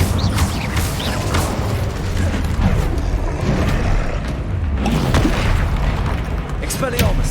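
Incendio fire spell cast in a Hogwarts video game, a dense roaring whoosh of flame with booming bursts, sustained and loud throughout.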